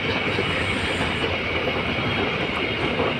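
The Kamandaka passenger train, with economy and executive classes, rolls very slowly along the track, making a loud, continuous rumble of wheels and carriages up close with no pauses.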